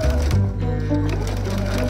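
A sewing machine stitches a seam in pants being made into a skirt, giving a close, steady mechanical whirr with a brief pause partway through.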